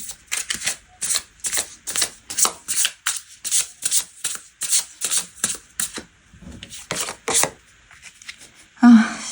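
Tarot cards being shuffled and drawn during a reunion-fortune reading: a rapid run of crisp riffling bursts at close range, a pause, then a few more card slaps and a final soft thump.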